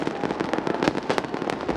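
New Year's Eve fireworks launched over Indonesian city celebrations for the 2024 arrival, a dense run of crackling bursts and pops, loud and continuous, heard without talk.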